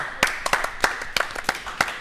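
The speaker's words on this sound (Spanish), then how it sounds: "¿Por qué aplaudían? Aplauden todos, ¿eh?" Scattered hand claps from a small audience at the close of a talk show about quad bikes, a few distinct sharp claps spaced irregularly rather than a full ovation.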